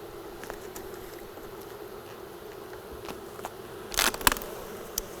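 Honeybees hum in a steady, fairly quiet drone around an opened hive during a fall inspection, with a short cluster of sharp scraping and clicking noises near the end, probably from hive tools working at parts sealed with propolis.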